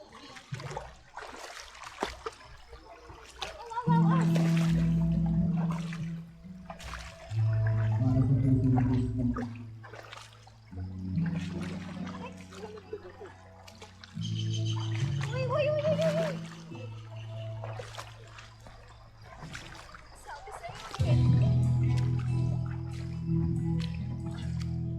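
At a river crossing, water trickles and gurgles over rocks, with louder splashing surges in several stretches as people wade through, some low voices faintly mixed in.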